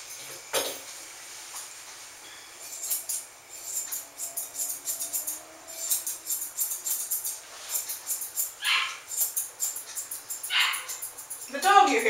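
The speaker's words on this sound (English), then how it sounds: "hearing barking in the background is Lexi." A dog barks and yips repeatedly in short bursts at a distance, some quieter and some sharper, over a faint background hum.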